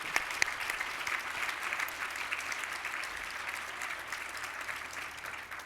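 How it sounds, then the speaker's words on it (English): Steady, moderately distant applause from a conference audience honoring municipal leaders, even and continuous for several seconds with no talk over it. "please give a round of applause to these great leaders"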